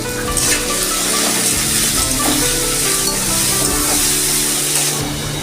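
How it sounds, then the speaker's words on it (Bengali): Potatoes seasoned with salt and turmeric sizzle loudly and steadily in hot oil in a pan, giving a continuous close frying hiss with no voices. "দেখুন আলুটা আমার ভাজা হয়ে গেছে"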